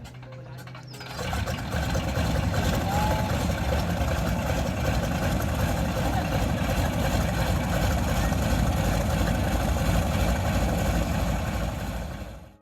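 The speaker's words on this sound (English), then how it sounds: "with a little luck, the big radial engine comes to life" The big radial engine of a Stinson SR-9C Reliant aircraft coughs into life after a short quiet start, then settles into a steady, rough idle with a dense throbbing drone that holds for over ten seconds before cutting off.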